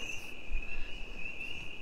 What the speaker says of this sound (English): The crickets chirping.